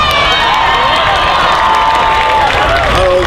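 Loud crowd cheering and applause from a festival audience at a cosplay contest, a steady dense roar of clapping with shouts and whoops across the whole stretch.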